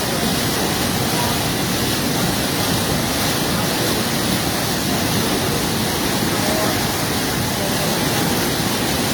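The flooded Khowai river at Jalalabad, Habiganj, runs fast and eats at its bank, a loud, continuous broadband roar of churning water that never lets up across nine seconds, with no clear speech.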